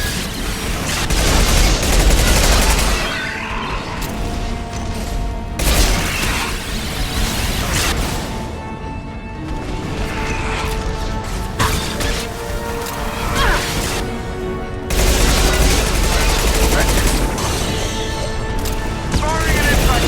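Sustained gunfire, heavy booms and concussive blasts from Mass Effect 2 during a Collector invasion on Horizon, dense and loud throughout, with bursts of rapid fire and explosions overlapping game voices.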